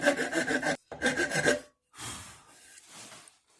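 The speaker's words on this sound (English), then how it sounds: "I'm going to alternate between the flat and then the half round wood parts of the wood rasp." Half-round side of a wood rasp scraping a carved wooden war club, two close rhythmic bursts of coarse rasping strokes, a pause, then two lighter, softer passes.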